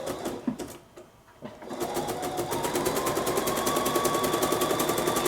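A Bernina sewing machine fitted with presser foot 10, the edgestitch foot, stitches a lace band onto trimmed fabric, starting with a few stops and then running at a steady, rapid mechanical whir close by.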